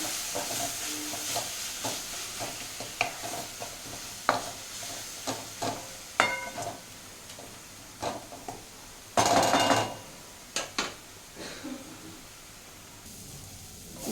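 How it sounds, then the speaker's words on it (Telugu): Masala for methi rice fries in a pan under repeated spoon stirring: sharp scrapes and taps recur every second or so over a quiet continuous sizzle, with a louder stirring burst partway through. "మొత్తం పచ్చివాసన పోయేంత వరకు ఫ్రై చేసుకోవాలండి."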